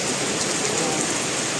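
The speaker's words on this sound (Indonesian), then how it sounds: "Kehujanan di hutan hujan." Steady rain pours down in the Bukit Barisan Selatan rainforest, a dense, even hiss of drops on foliage that holds unbroken and fairly loud throughout, with no other distinct sounds.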